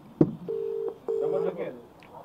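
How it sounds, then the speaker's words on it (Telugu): Telephone keypad tones sound as a call is placed: two steady electronic beeps, each under half a second, separated by a short gap. A sharp click comes before them and faint background noise runs throughout. "ఆ నంబర్ నేను చేస్తాను"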